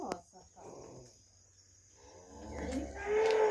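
A cow on a dairy farm lets out low moos, one near the start and a longer, louder one at the end, with a person's voice speaking between them.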